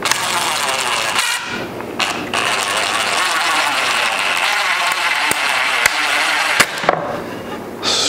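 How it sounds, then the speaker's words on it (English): A loud, continuous ratcheting whir of a drill driving screws into a 2x4 cornhole board frame runs nearly nonstop, broken by a few short pauses and sharp clicks. "screw it in, not all the way tight, just to make sure that it levels up"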